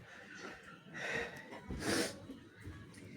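Someone with a cold gives a quick, soft sneeze-like snort with a couple of breathy bursts, close to the microphone and otherwise quiet, with no talk.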